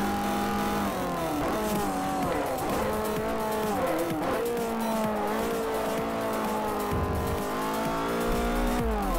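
Race car in the Forza Motorsport 4 video game cornering, engine revving loudly and continuously with pitch rising and falling through gear changes, tires squealing through the turn, no talking.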